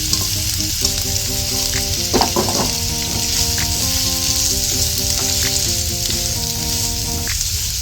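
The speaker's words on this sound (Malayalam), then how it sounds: "ആ മീൻ വറുത്ത് മാറ്റിയ എണ്ണയിലേക്ക് നമ്മൾ ഇഞ്ചി, പച്ചമുളക്, വേപ്പില, സവാള ഇതെല്ലാം കൂടിയിട്ട് ഒന്ന് വാട്ടാൻ പോവുകയാണ്" Ginger, green chili, curry leaves and onion sizzle loudly and steadily in leftover fish-frying oil, with occasional stirring scrapes and tuneful music playing in the background.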